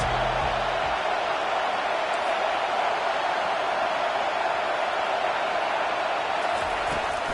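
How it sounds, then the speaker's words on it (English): Stadium crowd roaring in a college football video game, Florida State at Alabama, a steady, diffuse wash of cheering noise that holds constant at moderate level without breaks. "Listen to this crowd just shaking the girders of this place, trying to help their defense."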